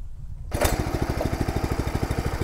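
A Dfarm mini power weeder with rubber front wheels and a rear harrow starts up after a brief quiet moment, its small engine settling into a loud, close, rapid putter with a steady pulsing beat.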